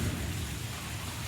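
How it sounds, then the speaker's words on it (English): Rain falls with a deep rumble of thunder underneath, a brief, dense wash of noise that is loudest at the start and stays fairly steady afterward. "I mean, thunder came down."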